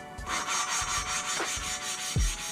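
Hand-lapping an engine valve with a suction cup tool on a Toyota MR2, a close, steady rasping rub with gritty back-and-forth strokes and a few soft knocks, at a moderate level with no voices.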